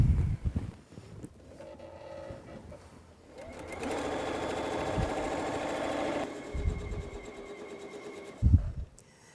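A home sewing machine stitches butterfly quilt wing pieces, its motor whirring in a steady mechanical hum that swells louder in the middle stretch before easing off, close and alone with a few soft handling bumps.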